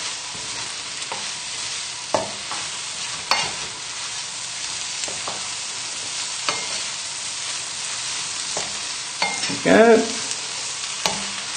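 Mushrooms sizzle in a hot pan with a constant frying hiss, while a utensil stirs and knocks them around in irregular scrapes and clacks. A short word is spoken once.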